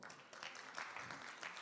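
An audience claps together at a Chinese zither concert, a dense, steady patter of many hands that swells slightly in short waves and carries on without pause.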